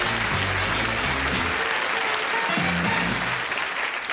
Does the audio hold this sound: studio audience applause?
yes